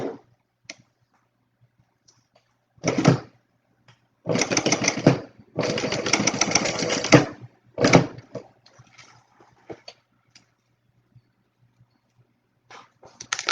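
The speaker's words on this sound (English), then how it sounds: "so I'm going to sew my zipper tabs on, right side up, and your zipper right side down" A sewing machine stitches zipper tabs onto a small wallet in short bursts, a rapid close mechanical rattle starting and stopping, with quiet pauses between runs.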